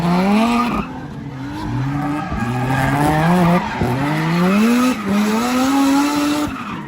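At a Thailand motorsport drift event, cars slide with tires squealing loudly in long wavering screeches while engines roar close by, the squeals rising and falling continuously with no voices.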